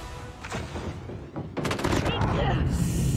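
Gunfire in the mobile shooter game COD Mobile: rapid bursts of automatic shots and booms close up, layered with game effects and a voice talking over the action.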